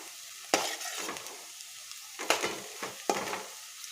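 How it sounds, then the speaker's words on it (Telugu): Bitter gourd pieces stir-fried in a pan for an Andhra-style fry, a faint soft sizzle broken by a few sharp scrapes and clinks of a spatula stirring, quiet and close. "కలర్ మారేంత వరకు మనం మధ్య మధ్యలో కలుపుతూ ఉండాలి, లేదంటే మాడిపోతాయి."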